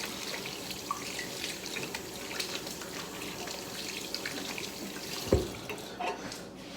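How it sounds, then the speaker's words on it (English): Tap water runs steadily into a kitchen sink while hands are washed during cooking, a continuous close splashing hiss with a short clatter near the end. "So let me wash my hands."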